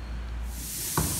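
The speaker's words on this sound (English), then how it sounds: "used the art gun to spray the glue" An art gun spraying glue onto a boat's teak deck during vacuum bonding, a steady close hiss that builds toward the end, with a brief soft knock near the finish.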